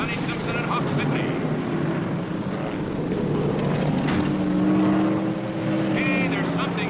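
Race cars from 1969 roar loudly in continuous engine drone, with rising and falling pitch as cars pass, under excited commentary from a voice throughout.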